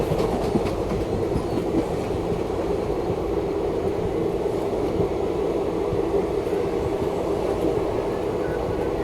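A 12711 Pinakini SF Express rolls steadily along the rails near Tenali Junction, giving a loud, continuous rumble with faint clickety-clack from the wheels and no talk.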